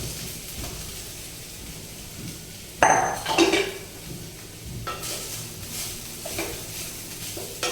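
Poha in a little oil in a kadhai is stirred with a spoon, giving soft scraping, light sizzling and a burst of metallic clinks partway through, all close and unaccompanied by talk.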